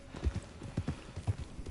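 Horse hooves clip-clop in a quick, uneven rhythm in the video game Red Dead Redemption 2, close and moderately loud with no voices over them.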